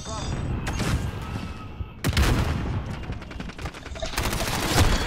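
Video game gunfire crackles in sharp bursts and rapid volleys, loud and close, with pauses between salvos and someone talking over the shooting.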